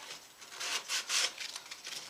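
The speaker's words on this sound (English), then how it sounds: "a couple minutes with a little sander" A small sander works the wooden neck pocket of a guitar body, producing close, soft, hissing strokes that rise and fall in an uneven rhythm, with no talking.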